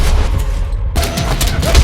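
Loud gunfire in a John Wick action film scene, a burst of sharp booming reports with rumbling low end across the clip, close and dense with no clear gaps.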